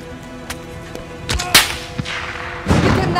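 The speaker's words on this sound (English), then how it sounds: "Those shots came from the highway!" Sharp gunshots crack from a highway during a sniper mission in Call of Duty: Modern Warfare, several distinct reports with echoing tails and a heavier blast near the end.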